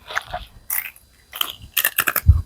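A crunchy Chinese snack is bitten and chewed close up, with several sharp crunches arriving in quick bursts and a louder bite near the end.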